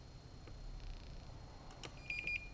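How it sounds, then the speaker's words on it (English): A multimeter set to continuity mode gives a few short, faint electronic beeps close together near the end, over low background hum while probing a microcontroller pin on a Verbatim USB drive's circuit board. "Now I'll recheck this with continuity mode."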